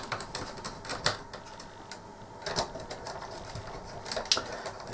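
Small screws being tightened into threaded inserts to hold a heat sink on a PiStorm32 Lite board, giving close, irregular clicking and rattling taps with brief scraping in between.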